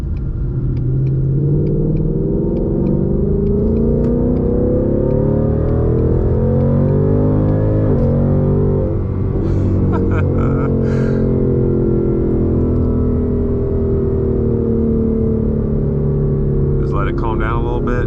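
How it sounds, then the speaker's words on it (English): A 2020 Ford Mustang GT with a Borla exhaust revs up in sport mode as it accelerates hard from a start, the pitch climbing then dropping at a gear change before building again, loud and close. "we're gonna pop it into sport mode here and just take off a little bit"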